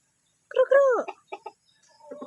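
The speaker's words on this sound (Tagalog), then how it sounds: "Ito yung pogi kong tandang." A six-month-old young rooster lets out one short, strained harmonic crow up close, followed by a few brief clucks and soft farmyard noises.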